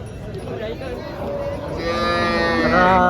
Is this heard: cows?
yes